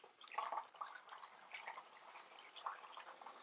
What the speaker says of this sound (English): Obviously you get a bit of a splash of water, that's no problem.